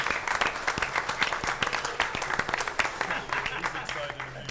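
A council meeting audience gives a round of applause, a crowded patter of many hands clapping steadily at moderate distance, with some voices underneath.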